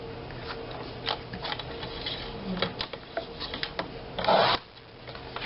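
Cardstock scored on a paper cutter for a recipe card box: faint scratchy rubbing strokes with a short, louder rasping pass near the end, close and alone with no talking.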